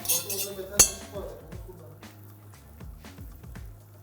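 A teaspoon clinks against a pot while tomato soup cooks, with one sharp metallic clink near the start followed by softer scraping and tapping as the spoon stirs.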